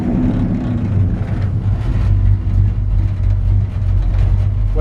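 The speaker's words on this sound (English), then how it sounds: "A nice throaty V8." A 1956 Chevrolet 3200 pickup's throaty V8 rumbles continuously from inside the cab while driving, a deep steady drone with slight swells in engine load.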